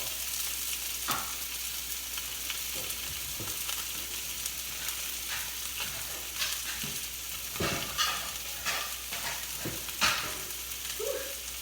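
Steady sizzling and frying of salmon, broccolini and asparagus in a hot pan, with occasional scraping and stirring sounds over the continuous crackle, close and fairly loud.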